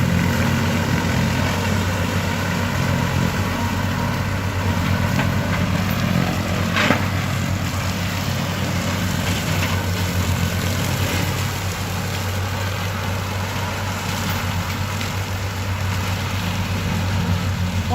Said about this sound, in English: he's gonna unload that and go over the top here with the mower